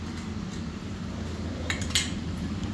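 A plate clinks against other dishes and cutlery as it is lifted out, two or three sharp chinks over a steady kitchen hum.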